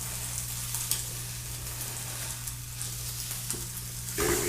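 Savoury French toast sizzles on a hot griddle right after being flipped, giving a steady, even hiss with a faint hum underneath and a brief louder scrape near the end.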